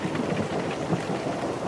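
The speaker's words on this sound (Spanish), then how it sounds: "Parece que es una tormenta." A thunderstorm with rain that has built from a slow fall to a faster downpour: a dense, steady hiss of rainfall with a low rumble beneath it, continuous and fairly loud, with no voices.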